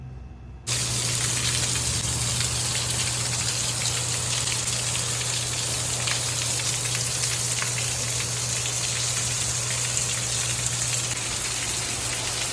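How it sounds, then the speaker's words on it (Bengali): Steady, heavy rain pours down continuously at Lake George, USA, after a brief quieter start, a dense hiss of drops on surfaces with a low constant hum beneath. "বৃষ্টি শুরু হয়ে গেছে"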